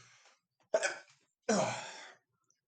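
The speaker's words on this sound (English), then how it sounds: "But I gotta sneeze." A man sneezes indoors, a short breathy intake followed by a louder burst and a longer second explosive sneeze, close and fairly quiet.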